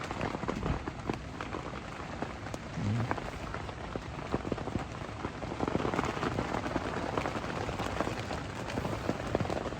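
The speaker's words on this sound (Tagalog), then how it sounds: "Grabe pa rin yung ulan tsaka hangin guys." Heavy rain pours steadily at a riverside campsite, with gusting wind adding a broad, continuous roar; dense close patter of drops with no pauses.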